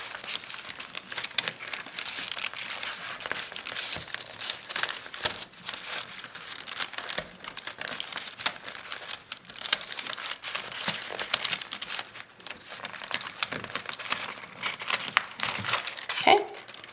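Paper is folded and creased by hand while making a paper flower bouquet, giving continuous soft crinkling and rustling at close range, with a sharper crackle near the end.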